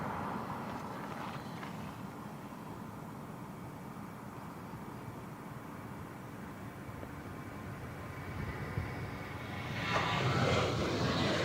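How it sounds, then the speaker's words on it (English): A jet airliner taking off at Portland International Airport, a broad steady engine roar heard from a distance by a plane spotter, swelling slightly louder near the end, with no talk. "I'm just gonna focus on the takeoffs and get set up after we capture a few"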